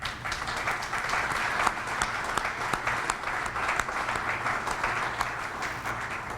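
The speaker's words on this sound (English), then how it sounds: "How about a round of applause for all those who are investing here in the landing?" Guests at a Lucas Avenue ribbon cutting ceremony and open house clap steadily for local investors, with outdoor applause that stays even and moderately loud throughout.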